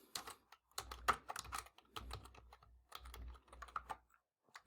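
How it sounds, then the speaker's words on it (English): Typing on a computer keyboard: bursts of close, quick key presses in an irregular rhythm, pausing between short runs of strokes, with no voices. "I'm going to type the president."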